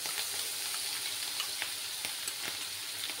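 Spices frying in a pan while being cooked down, a steady close sizzle with small crackles and pops, mid-level and alone without any talk.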